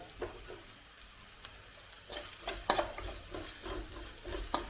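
Green chillies frying in a pan for an egg masala, with a soft steady sizzle and a few light scraping stirs of a spoon against the pan, close and fairly quiet.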